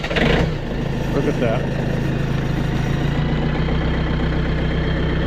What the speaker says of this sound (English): I'm going to start up the little John Deere